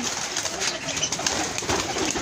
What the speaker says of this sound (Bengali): এই যে ঘুঘু পাখি, এই যে উপরে এগুলি সব ঘুঘু